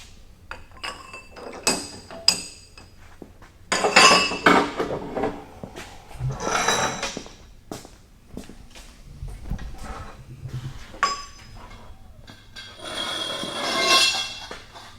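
A Milwaukee battery-powered 1/2-inch impact wrench, run at its 1400 maximum setting, works a nut loose in several loud bursts of rattling hammering, separated by quieter clanks and handling noise.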